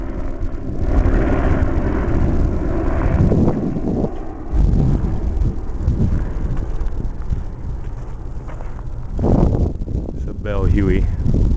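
A Huey helicopter takes off at a Vietnam War memorial site, giving a continuous, swelling rotor and engine roar with wind buffeting the microphone. Nearby voices speak under the noise.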